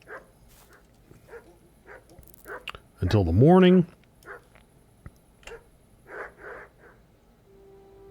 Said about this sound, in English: Hopefully that dog's gonna shut up.